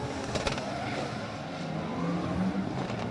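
A drift car at a drift championship in Oman runs sideways, its engine roaring and revving under a steady, somewhat distant crowd and track ambience.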